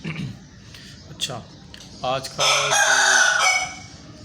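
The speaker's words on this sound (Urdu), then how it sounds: "یہ پیچھے مرغا بول رہا ہے، اس کی آوازیں آتی رہے گی" A rooster crows in the background, one long, loud call that rises and holds, with a shorter call just after it. Someone speaks briefly before it starts.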